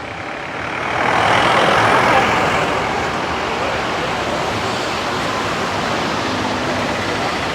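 Water flows across a road and spills downward, producing a steady broadband rush that swells slightly early on and then holds constant, with faint traffic-like rumble beneath.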